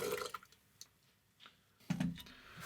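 Coffee pours from the glass carafe of a home brewing machine in two short, quiet splashing bursts separated by near silence, with no voices.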